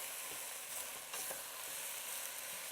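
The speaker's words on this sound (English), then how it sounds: "And then 3 chopped red peppers. Give this a stir." Three chopped red peppers being stirred in a soup pot for a vegetarian soup, a soft continuous sizzle and scrape heard up close and fairly quiet, with no voices.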